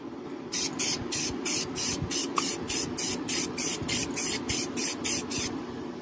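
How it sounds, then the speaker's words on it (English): Red spray paint hisses from an aerosol can in a rapid string of short, even bursts, close and steady over a rumbling background, during an oil change on a cammed single-cab truck, with no talk. "spray paint."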